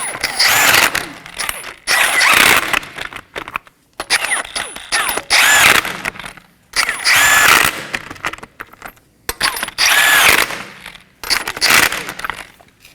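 Hand ratchet snugging down the lower engine torque strut mount bolts on a 2015-2023 Nissan Maxima 3.5L V6, five loud, close bursts of rapid clicking separated by short pauses, with no talking.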